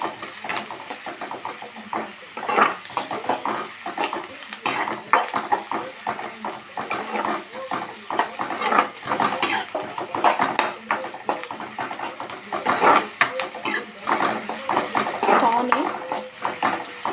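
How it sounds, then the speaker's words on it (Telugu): Thinly sliced onions frying in oil in a pan over a medium flame, with repeated spatula scrapes and metallic clinks against the pan over a low background hum. "ఇవి లైట్ గోల్డెన్ కలర్ వచ్చేంత వరకు ఫ్రై చేసుకోవాలి."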